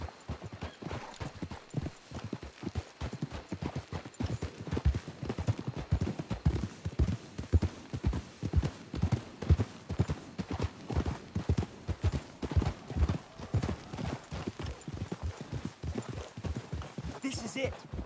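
In the Red Dead Redemption 2 game, horse hooves clip-clop in a steady, rhythmic stream for the whole stretch, close and clear, with low ambient game sound behind them and character voices speaking at times.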